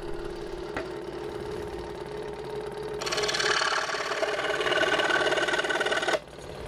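An electric jigsaw cuts a piece of wood, its motor humming steadily and then rising into a louder, buzzing rasp as the blade bites in for a few seconds before easing back down.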